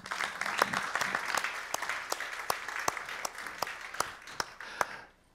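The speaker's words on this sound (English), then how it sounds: "Give Giovanni a round of applause" A round of applause from a conference audience after a talk on FusionPBX and FreeSWITCH, moderately sized clapping with distinct sharp individual claps standing out, fading out at the end.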